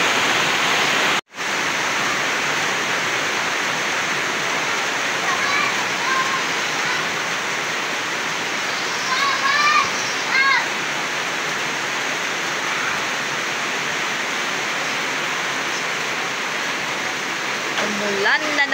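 Heavy afternoon rain pours down in a steady, dense hiss for nearly twenty seconds, loud and unbroken apart from one brief dropout early on, with faint voices and small sounds occasionally surfacing beneath it.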